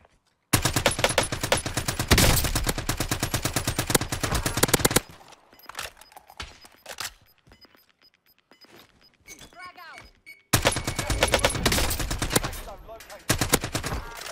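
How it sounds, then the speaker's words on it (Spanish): Bursts of rapid automatic gunfire from the video game Warzone, loud and dense in two long volleys with scattered sparser shots in between, while a player talks over it. "Me están disparando por atrás."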